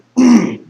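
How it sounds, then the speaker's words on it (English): A single short, rough throat clearing, close and loud, with a raspy cough-like burst that trails off. "I have no idea why I'm coughing up so much crap."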